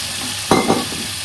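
Two whole dried red chillies dropped into hot oil in a pan, a sudden short burst of sizzling that quickly settles back to a low fry.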